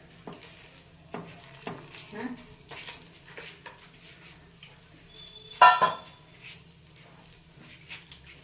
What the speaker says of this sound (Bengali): এই যে আমাদের পিঠে ভাজা শুরু হয়ে গেছে।